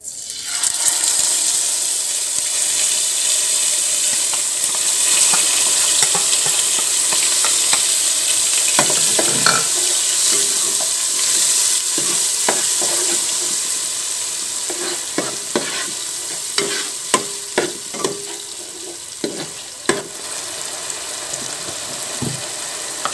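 A paste of onion, ginger, garlic and tomato frying in hot oil, a loud continuous sizzle with frequent scraping spoon clicks growing busier toward the end.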